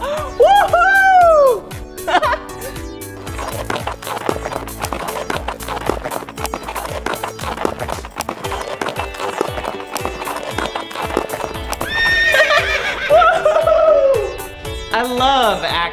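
On a play horse ride at an indoor playground, rhythmic hoof clip-clops trot steadily throughout, framed by high, wavering neighs at the start and end. Music plays underneath and a voice cheers.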